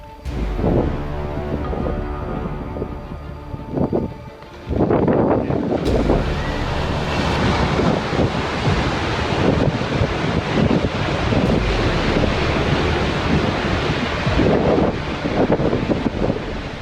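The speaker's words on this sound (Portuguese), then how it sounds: "O ruído do vento e os sons do gelo batendo contra as rochas" A large glacier ice collapse near the Argentière ski resort in the French Alps, a long roaring rumble of falling ice striking rocks blended with strong wind buffeting the microphone, loud and sustained.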